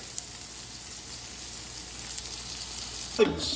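Sliced garlic and crushed red pepper fry in olive oil in a pan, giving a steady, soft sizzle close by, with a brief louder burst near the end.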